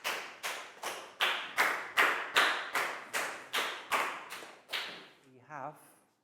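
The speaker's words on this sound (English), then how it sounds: "Big round of applause for Pat, please, guys." A primary classroom claps together in a steady rhythm for a pupil, about a dozen even, bright hand-claps in a row, followed by a short tonal chime as the clapping ends.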